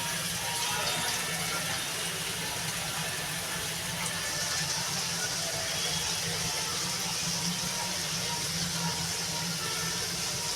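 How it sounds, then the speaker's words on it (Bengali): Water poured into a pumpkin and prawn curry in a pot, a continuous steady rush of running liquid close by, lasting throughout without pause. "বন্ধুরা আমি পরিমাণ মতো জল দিয়ে দেবো"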